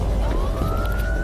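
A police car siren wails in a single steady rising sweep, fairly close, over a low rumbling background with no voices.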